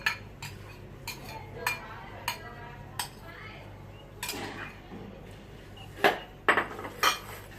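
Utensils clink against a bowl while tossing a salad of sliced long beans and eggplant, a series of sharp taps and scrapes spaced out in an uneven rhythm over a steady low hum, close and moderately loud.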